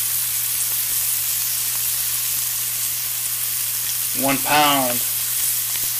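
A one-pound bison rib-eye steak fries in a pan with a loud, steady sizzling hiss throughout; a person speaks a short phrase near the end over the sizzle.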